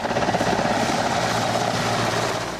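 An Indian Air Force Mi-17V5 military transport helicopter flies overhead, its rotor throbbing in a steady rapid beat over a loud continuous engine roar that holds for the whole stretch.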